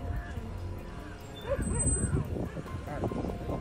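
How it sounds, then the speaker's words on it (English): A small stray dog barks and yips repeatedly at a lioness, sharp excited barks mixed with whimpers, fairly close and rising in intensity, with narration running over it. "He barks and bites at the lion"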